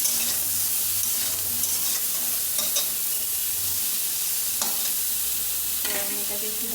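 Pointed gourd (potol) salted and frying in a pan gives a steady close sizzle, broken by a few clattering stirs and scrapes of a spatula.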